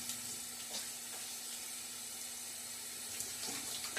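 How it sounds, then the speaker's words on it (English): Water runs and splashes from a tap in a steady hiss, with a few brief louder splashes near the start and end. "Splash of water now."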